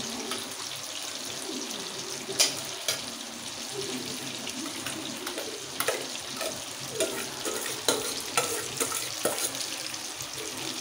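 Rice tipped into a hot frying pan and stirred, giving a faint continuous sizzle broken by scattered scraping taps of the spoon against the pan.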